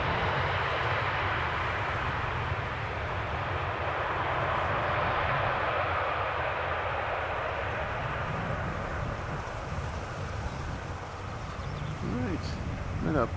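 Airliner landing at Amsterdam Schiphol with thrust reversers applied, a broad steady roar of engine noise rushing on throughout at a moderate distance, with no distinct voices over it.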